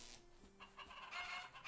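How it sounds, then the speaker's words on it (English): Chickens in the fantasy game Shroud of the Avatar cluck and squawk faintly in quick, uneven bursts over a soft ambient background, with no talking. "the chickens are certainly busy today"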